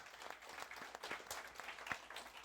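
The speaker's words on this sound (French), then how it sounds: "let's give them a round of applause for what they do for us" Church congregation applauding, a light, scattered patter of individual claps at modest level over a couple of seconds.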